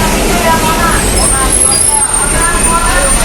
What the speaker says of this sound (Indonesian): Inilah bus gandeng